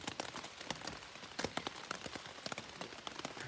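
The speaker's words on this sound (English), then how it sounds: "Welcome to our world. It's raining." Steady rain on the Appalachian Trail patters on a surface, dense irregular drops with a constant hiss, fairly close and unbroken throughout.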